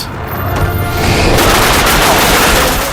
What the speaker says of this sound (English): Now he gets a triple darkness blast shot